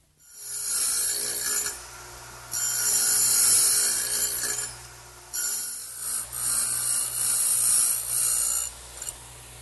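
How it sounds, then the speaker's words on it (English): A stacked dado blade plowing a wide groove through wood for a workbench, heard as loud bursts of high cutting whine over a steady low machine hum, broken by short pauses between passes. "a dado cutting blade"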